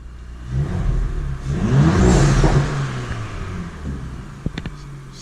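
An Audi S4 B9 engine revs in dynamic mode, rising to a loud swelling roar, holding, then easing back to a settling idle with a few brief clicks near the end.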